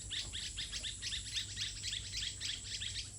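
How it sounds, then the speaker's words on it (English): Wild birds gathered in the evening chirp and tweet nonstop, a quick regular series of bright, high calls over a steady background hiss, moderately distant and with no talk. "These birds gather here every evening tweeting and chirping at each other non-stop."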